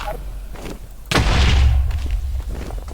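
A sudden deep boom lands about a second in, followed by a rumbling tail that lingers, heavy and loud like a game explosion, from a Minecraft explosion.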